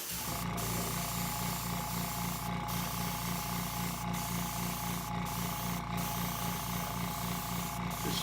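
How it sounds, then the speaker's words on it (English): Steady spray paint hiss on a plastic model kit's boots runs throughout over a mechanical hum, with a few short bursts at intervals. "and spray the boots"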